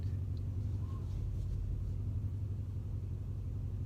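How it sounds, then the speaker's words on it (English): Deep, steady engine rumble from a loud Mercedes C63s, heard from inside the car as it drives, a constant low drone that holds unbroken throughout. "God, this car is loud."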